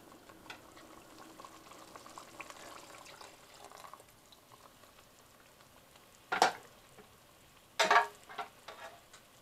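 Chili sauce with a sprig of epazote simmers in a pan for shrimp fritters, a soft low sizzle and bubbling throughout, broken by two brief louder bursts of stirring or splashing near the end.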